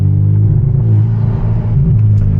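A modified Boosted 2.0 Turbo car rumbles from inside the cabin on a midnight drive, a loud, deep, steady engine drone with slight swells as it accelerates.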